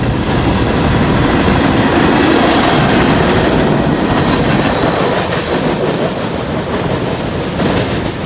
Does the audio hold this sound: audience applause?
no